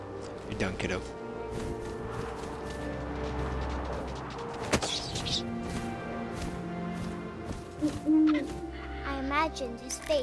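Owl hooting in the game What Remains of Edith Finch, a few low hoots over a wind-like ambience and a sudden thump, with a voice narrating throughout.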